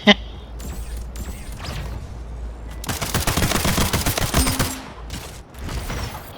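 Gunfire from a pistol and a railgun in the arena shooter Splitgate, loud close shots, an opening crack followed by a rapid dense burst of repeated fire and mechanical clicks, with someone talking briefly.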